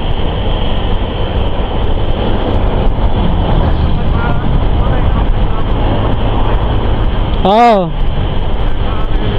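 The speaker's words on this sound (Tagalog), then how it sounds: "Kahit yung tunog man lang ng motor." A loud, steady motorcycle engine drones throughout on a road trip in North Luzon, with a brief voice-like sound rising over it near the end.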